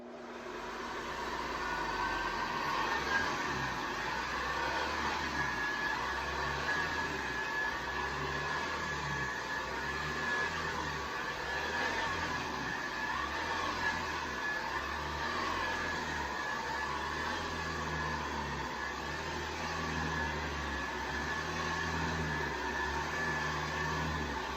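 A 1970 Hoover Convertible Model 704A upright vacuum cleaner runs steadily with a loud, constant motor whine and a rhythmic low pulsing throb, with no talking.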